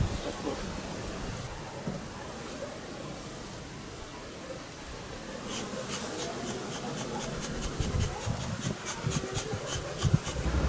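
Honey bees at an open hive make a continuous dense, noisy buzz close by, with faint speech beneath it and a run of regular light clicks or taps in the second half.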